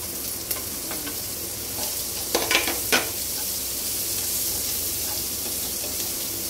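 Onion sizzles in a pan for sopas, a continuous bright hiss of frying with a few quick stirring scrapes and taps near the middle, close and fairly loud.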